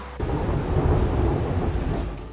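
Rumbling thunder with steady rain during a passing storm at an outdoor horse shelter, a continuous loud low roll over dense rain noise, no voices.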